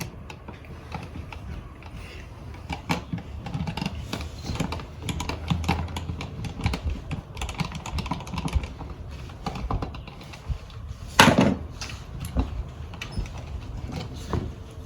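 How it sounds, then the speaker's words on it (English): A screwdriver drives the top and bottom screws of an electrical outlet into a junction box, giving a steady stream of close, irregular clicks, ticks and scraping handling noises with one sharper knock near the end. "The screws on the top and the bottom of the outlet get screwed in to the holes in the junction box."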